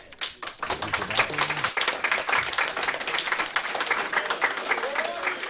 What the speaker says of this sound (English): Come on, more clapping, please clap.